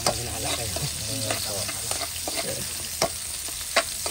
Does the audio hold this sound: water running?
no